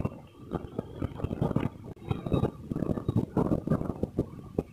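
Gusty wind buffets the microphone outdoors, rough low rumbling bursts rising and falling in uneven waves, close and loud, with no clear voices.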